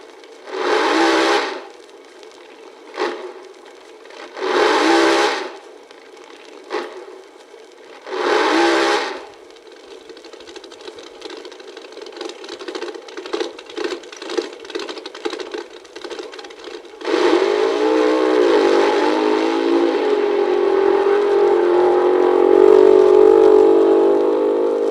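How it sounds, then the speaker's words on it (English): A 1970 Dodge funny car drag racer blips its engine in three loud, sharp revs, then crackles and pops at a rough idle before erupting into a sustained, roaring full-throttle run. "Let's hear what a funny car sounds like."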